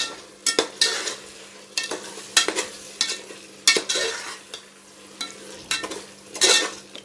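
Chicken with masala stirred in a pressure cooker for biryani, loud scraping strokes of a ladle against the metal coming in uneven bursts over a soft sizzle, close and with no voices.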